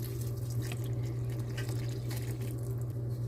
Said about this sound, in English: Now I'm adding the coconut milk.